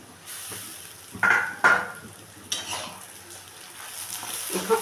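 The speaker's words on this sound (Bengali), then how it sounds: "এখন আমি এটা তেলের মধ্যে দিয়ে দেবো দিয়ে এবার আমি এটাকে কষাতে থাকব" Lote fish mixture, for a bhuna with katla fish, tipped into hot oil and stirred, giving a steady close sizzle and hiss with a couple of sharper scraping bursts from the stirring.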